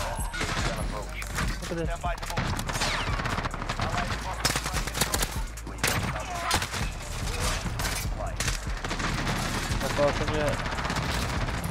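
Rapid automatic fire from an AN-94 rifle in Call of Duty Modern Warfare, with dense, sustained bursts running through the whole stretch while someone talks over the shooting.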